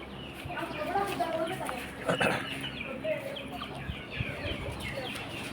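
Chickens cluck softly nearby while people chat, with a brief sharp scuffle partway through.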